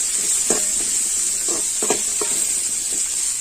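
Onions and green chilies sautéing in a pan for an easy chicken gravy, a constant bright hiss of frying with a few soft spoon scrapes and stirring knocks, close and without voices.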